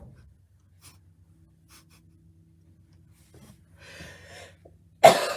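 One person coughs sharply and close at the end of a quiet stretch, after faint rustling and breathy sounds in a room.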